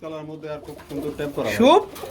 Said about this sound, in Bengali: শর্ট পিস কবুতর বন্ধুরা দেখতে পাচ্ছেন হলুদ কালারের মধ্যে